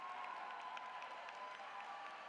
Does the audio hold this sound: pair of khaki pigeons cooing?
no